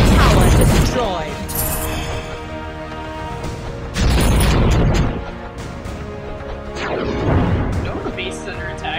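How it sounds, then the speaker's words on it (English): Heavy crashing booms from a tower being destroyed in the MOBA game MOBA Legends, three loud bursts of rumbling impact and debris with game effects layered between them. "Ally tower destroyed."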